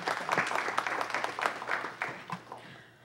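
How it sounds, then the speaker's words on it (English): A council meeting audience applauds together, a dense patter of many hands clapping steadily at moderate volume before thinning out and fading near the end. "Everyone, please give him a round of applause for leading us in the invocation."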